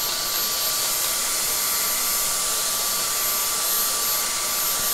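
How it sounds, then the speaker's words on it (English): A handheld blow dryer runs steadily on hair for the full stretch, a loud, continuous close-up whoosh with a faint high whine and no voices. "I think I need to blow dry it so that it sticks."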